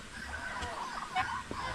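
A goose on a rural smallholding in the Philippines gives a few short honks against a noisy outdoor background, with no talk over it.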